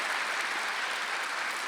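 A church congregation at a Sunday worship service clapping together, a dense continuous patter of many hands at moderate loudness that fills the short moment without any speech.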